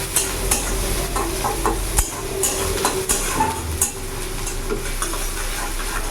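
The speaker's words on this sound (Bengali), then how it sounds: "পেঁয়াজের কাঁচা গন্ধ যতক্ষণ না যাচ্ছে, পেঁয়াজটা আমি একটু ভেজে নেবো" Onions frying in a pan for silver carp kalia, with a steady sizzle throughout and repeated scraping stirs of a utensil against the pan, up close and without talk.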